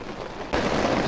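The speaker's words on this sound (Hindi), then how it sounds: "अभी बारिश जो है बहुत ज़्यादा हो रही है बाहर से, आप आवाज़ सुन सकते हो," Dense, heavy rain hisses and patters steadily outside a tent, jumping abruptly louder halfway through as if heard more openly, a close, continuous wash of noise.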